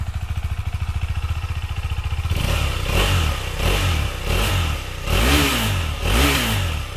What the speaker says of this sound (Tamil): த்ராட்டல் கொடுத்தோன்னா சூப்பராக இருக்கும் சவுண்டு.